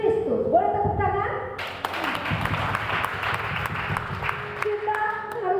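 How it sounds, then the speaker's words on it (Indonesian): A church congregation at an Indonesian service breaks into loud applause after someone speaks briefly, and the clapping fills the room for several seconds. "Boleh tepuk tangan?"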